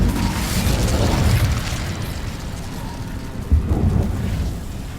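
An Incendio fire spell cast in the video game Hogwarts Legacy sounds as a loud, rushing roar with booming, crackling bursts that hold for several seconds, plus a sharp thump near the end, with no voices.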